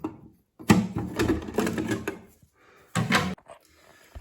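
The front cover of a Geberit concealed cistern flush button being pried off, a close burst of plastic clattering and scraping, a pause, then a second shorter rattle of parts being handled.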